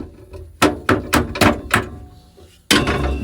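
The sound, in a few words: rusty bolt being knocked out of sandblasting cabinet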